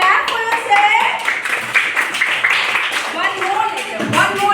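A child clapping during a phonics letter-sound lesson, a quick run of light hand claps mixed with voices talking and chattering throughout.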